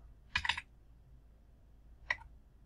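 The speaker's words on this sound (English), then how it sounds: "So I type in make" A short burst of quick computer-keyboard keystrokes typing a Linux build command, followed after a pause by a single key press, all soft and close in a quiet room.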